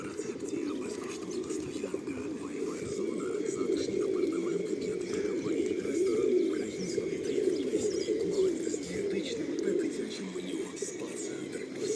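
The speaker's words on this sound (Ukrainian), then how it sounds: "голуби." Soft, low pigeon cooing runs steadily throughout with a busy outdoor murmur and faint chirps behind it, moderately close, at a pump room in central Truskavets, Ukraine.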